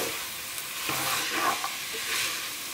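Goan pork pasta being stirred gently in a pan over medium flame, a soft continuous sizzling hiss with faint swishes of the spoon, steady and close with no talking.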